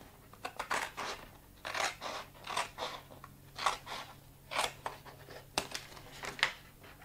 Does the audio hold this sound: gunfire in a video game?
no